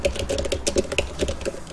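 Rapid keystrokes on a computer keyboard while entering AutoCAD drawing commands, a dense run of close, crisp clicks with one louder tap standing out, no voice.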